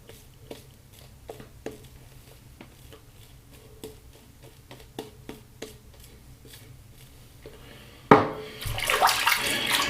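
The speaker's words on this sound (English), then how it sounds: "All right, just rinse the razor through." A slant safety razor is rinsed under a running tap, with a sudden loud gush of water starting near the end after a stretch of quiet, regular ticking.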